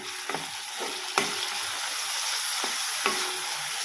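Tomatoes with curry leaves frying in a pan for a raw banana vegetable dish, a steady hiss of sizzling oil broken by a few sharp spatula scrapes, close and without speech.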